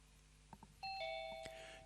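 A Zoom meeting join chime rings out as a doorbell-like two-tone ding-dong, bright and clear after a few soft taps, its tones ringing on and fading slowly in a quiet room.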